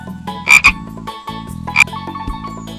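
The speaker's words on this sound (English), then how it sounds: "Frog" A frog croaks in loud, close bursts, a quick double croak followed by a single one, over a steady low hum.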